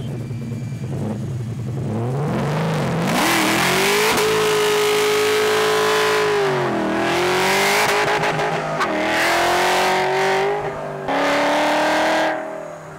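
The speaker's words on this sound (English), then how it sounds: "the LT4 provides a smooth running engine that goes crazy when you drop the hammer." Camaro with an LT4 V8 revs hard and loud, climbing through several sharp pulls with brief drops between shifts, a raw close-up roar throughout.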